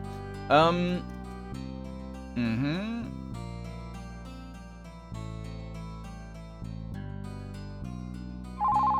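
Telephone ringing in a dungeon crawler video game, heard as repeated melodic ringtone tones over game music, with a couple of swooping electronic chirps near the start.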